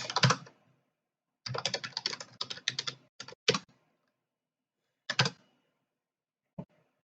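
Someone types a terminal command on a computer keyboard, with quick close clicking bursts of keystrokes separated by pauses and a final lone tap.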